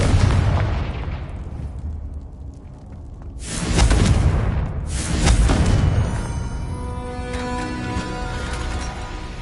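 Booming Confringo blasting spell explosions in Hogwarts Legacy, two big blasts with rumbling decay and a lingering tonal ring afterward, loud with no talk.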